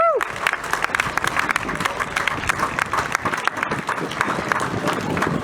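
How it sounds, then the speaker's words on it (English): A crowd at a community solidarity rally applauds the young organizers of the event, with crisp, uneven claps and scattered cheers filling the space. A brief vocal sound rises at the very start. "Let's give them a round of applause, please."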